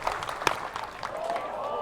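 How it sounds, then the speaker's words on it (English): A baseball crowd claps in anticipation, scattered rhythmic clapping from the stands, moderately distant, with a commentator talking over it. "Crowd clapping in anticipation."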